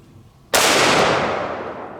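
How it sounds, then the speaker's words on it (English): A single loud gunshot from a Smith & Wesson Model 460 revolver with a 14-inch barrel firing Underwood 300-grain jacketed hollow points at a transparent shield, a sharp close blast with a long decaying ring-out. "I have a Smith & Wesson model 460 with a 14-inch barrel, and I'm going to be using some Underwood ammo"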